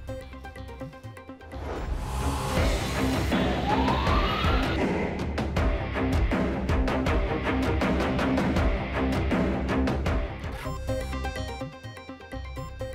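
Ambulance siren on a Lahore street, wailing loudly and continuously for most of the stretch over traffic noise, with a rising sweep early on and the siren fading somewhat toward the end.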